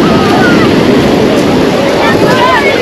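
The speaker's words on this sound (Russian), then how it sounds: "Волны увеличиваются. Достаточно серьезные такие стали." Stormy sea surf rolling onto a beach at Lazarevskoye near Sochi, a loud continuous roar of churning waves with heavy wind buffeting the microphone throughout.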